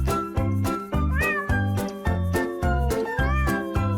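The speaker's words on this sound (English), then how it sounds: "It's a cat." A cat meows repeatedly, several clear rising cries, over a bouncy children's song backing beat.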